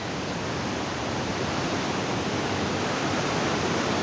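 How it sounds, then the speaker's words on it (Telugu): Water from fully opened lock gates rushes through in a loud, steady roar that holds at the same level for the whole stretch, close by and with no voices over it. "చూడండి వాటర్ ఎట్లా వస్తున్నాయో"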